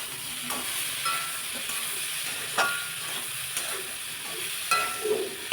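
Bitter gourd with cumin and Kashmiri chili powder stirred in a pan, a soft steady sizzle broken by several sharp spatula scrapes and taps at irregular intervals.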